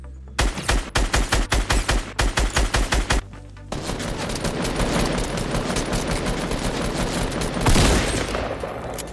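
Quad launcher firing in Fortnite on PS4: a rapid burst of loud, evenly spaced shots for about three seconds, then a dense roar of overlapping blasts and explosions that swells near the end, close and alone without talk.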